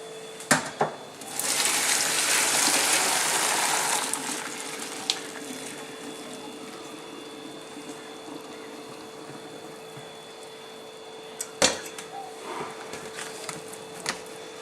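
Cooked pasta poured out to drain in a home kitchen, a soft rushing splash of water for a few seconds, then a low steady hum with occasional light clinks and knocks of cookware.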